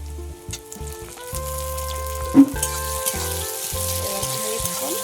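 Tomato frying with onions in a pan for mutton curry, a steady close sizzle under faint background music, with one brief louder clatter midway and no talking.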